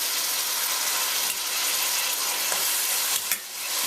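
Pieces of plantain fry in melted butter in a wide pan over a medium flame, a loud continuous close sizzle with a few faint clicks of a utensil near the end.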